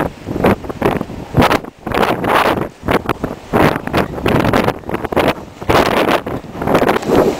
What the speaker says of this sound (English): A wind is blowing.